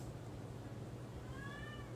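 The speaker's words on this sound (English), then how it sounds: "oh, that's my cat meowing." A house cat meows once near the end, a clear rising tonal call heard fairly close over a low background hum.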